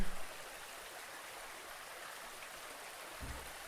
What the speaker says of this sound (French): Vous laissez faire le bruit de la rivière.